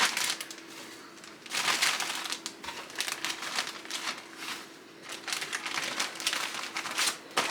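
Plastic zipper freezer bag crinkling and rustling up close, in irregular bursts of handling with short lulls between.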